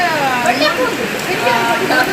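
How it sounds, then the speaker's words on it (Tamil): Rain falls steadily over houses in Jaffna, a constant close hiss heard beneath people talking throughout. "மழை பெய்யுது"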